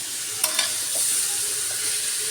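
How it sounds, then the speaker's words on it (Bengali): Loitta fish being stirred in a hot pan, a steady frying sizzle carrying through with a couple of sharp utensil scrapes near the start, close and alone without talk. "আমি একটু নাড়াচাড়া দিয়ে"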